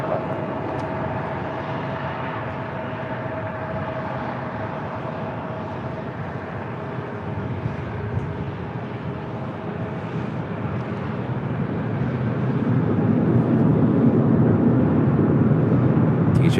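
An airliner taking off from runway 24 left at LAX, a broad distant jet roar that builds steadily louder toward the end, with no voices.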